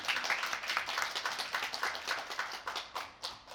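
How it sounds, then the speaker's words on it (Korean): Applause from a seated audience after a team's final project presentation, a dense patter of many hands clapping at moderate distance that thins out toward the end, with no talk over it. "다시 한번 큰 박수 부탁드리겠습니다"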